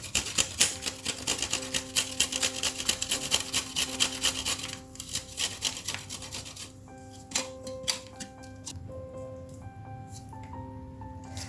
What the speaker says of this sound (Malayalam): ഞാനിവിടെ ഇഞ്ചി നന്നായിട്ട് ചെറുതായിട്ട് ഗ്രേറ്റ് ചെയ്തെടുക്കുവാണ്